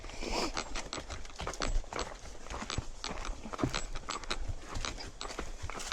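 A young horse walks with steady clip-clopping hooves throughout, moderately close, with some rustling and faint background noise but no talking.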